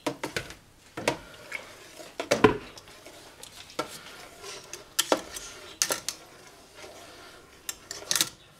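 Spoon stirring dissolved KOH lye and distilled water for homemade liquid dish soap, a series of close, irregular scraping and clinking strokes against the container with short pauses between.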